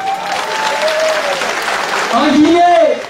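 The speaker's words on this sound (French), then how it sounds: "sous vos applaudissements." An audience applauds at a Guinean band's concert in Rotterdam, the clapping steady and fairly loud, with a sustained tone and a brief sung or spoken voice rising over it toward the end.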